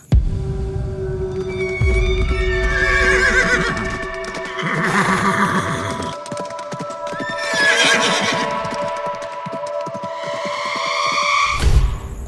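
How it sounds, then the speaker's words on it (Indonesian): Loud, repeated horse whinnies rise and fall over several seconds, with a clattering, rhythmic clip-clop underneath and a sharp thump at the end. "kuda meringkik kayak gitu"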